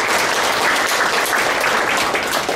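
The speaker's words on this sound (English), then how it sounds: "I guess you will continue that applause" An audience at an engineering talk gives the speaker sustained applause, a thick, even wash of many hands clapping nearby with no break.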